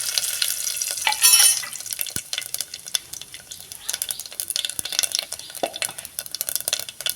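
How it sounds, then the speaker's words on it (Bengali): Whole bay leaves and cumin seeds sizzle and crackle in hot oil as a tempering for a fish-head dish, a loud, steady fry with a brief stir and scattered pops throughout. "তেল গরম হয়ে গেছে, আর একটা গোটা তেজপাতা, বড় তেজপাতা, আর একটা মানে জিরে, গোটা তেজপাতা আর জিরে দিয়ে দিলাম ফোড়নে।"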